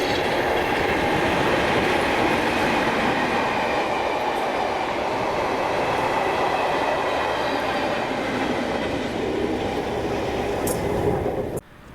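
Locomotive 37116 leads a train past Gailes in Scotland with a loud, sustained rumble and rolling wheel noise that stays strong throughout, then cuts off abruptly at the end.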